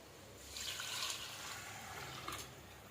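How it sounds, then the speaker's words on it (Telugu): Water poured from a glass into rice in a pot while cooking tomato bath, a steady close trickle and splash lasting about two seconds, with no talking. "నేనైతే 2 గ్లాస్ రైస్ వేసాను కాబట్టి 4 గ్లాస్ వాటర్ వేస్తున్నాను"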